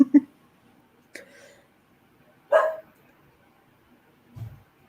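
A dog barks indoors in a few separate short barks spaced over several seconds, moderately loud, with a low whimper-like sound near the end.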